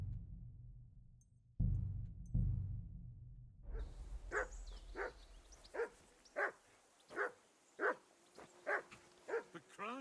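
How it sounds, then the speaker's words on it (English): A dog barking in the medieval game Kingdom Come Deliverance II, a run of about ten sharp, fairly close barks in uneven rhythm after a few low thuds and rumbles. "Call off that damn dog before he wolfs down the last of our mates."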